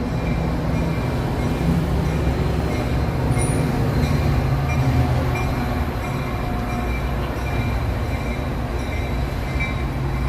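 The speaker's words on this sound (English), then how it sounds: "already another train, one right behind the other" A Chicago Metra train passes close by at Grand and Union with a continuous loud rumble of rail cars and wheels, plus faint squeals, steady throughout with no talking.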